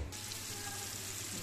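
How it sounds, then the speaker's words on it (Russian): Chicken mince cutlets sizzle in a frying pan, a steady faint hiss and crackle of hot oil with no talking. "Котлетки в сковородке. Следим, чтобы не подгорали."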